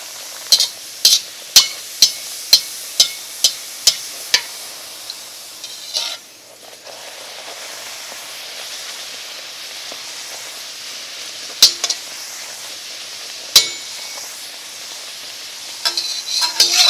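A wheat flour and banana tea-time snack frying in oil: a steady soft sizzle, opened by a run of sharp regular taps and later broken by a few isolated clicks of a utensil.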